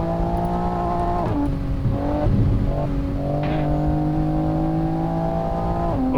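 A car in a racing video game accelerates along the Shutoku highway at night in the rain, its engine whining steadily with several sharp drops and climbs in pitch as it shifts gears.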